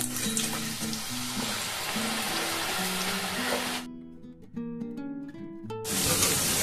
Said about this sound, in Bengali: দেখুন ভাজা হয়ে গেছে